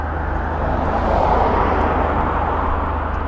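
A drone flies overhead outdoors near a fenced van wash in East Kilbride, giving a continuous buzzing motor drone with a steady low hum and a faint, even whir.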